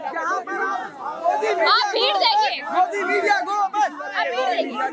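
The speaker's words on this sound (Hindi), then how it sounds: "और आप भीड़ देखिए" Dense crowd chatter at a street protest in Delhi, many overlapping voices talking and shouting close by, continuous and loud throughout.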